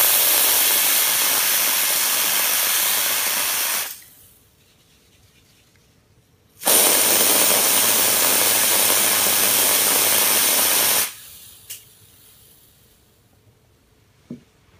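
Compressed air sprays onto a dent in a stainless steel appliance in two long, loud, hissing blasts of about four seconds each, separated by a quiet gap. A few faint clicks follow the second blast.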